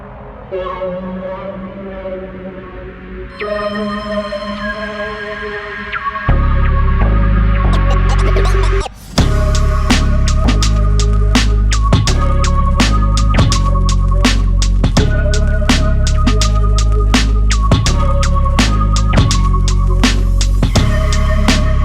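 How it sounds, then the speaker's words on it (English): A thumping electronic beat with heavy bass, opening on a sparse melodic intro, then a brief dropout and sweeping effect before the full groove returns. "Here's the beat with the additional FX sounds."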